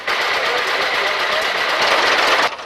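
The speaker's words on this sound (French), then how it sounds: "Ancien moteur et vieux taco." An old engine in an antique car runs at a vintage vehicle parade through a town. It makes a loud, close, steady rattling drone that cuts off abruptly at the end.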